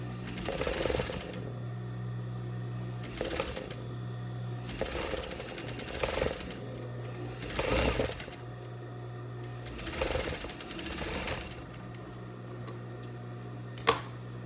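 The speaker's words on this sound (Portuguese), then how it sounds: "Já vou fazer essa costura desse do recorte." A sewing machine stitches a seam on a viscose linen dress in repeated bursts of rapid whirring, each run a second or two long with short pauses between, close and steady with no talking.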